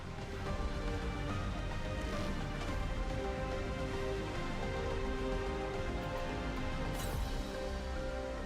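Rain falls in Final Fantasy XIV during a drive out through a downpour. A steady, even hiss runs throughout, mixed with sustained tonal background music.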